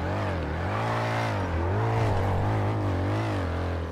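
A car engine revs in GTA, a loud, continuous droning whine that swells and dips in pitch for several seconds without pause.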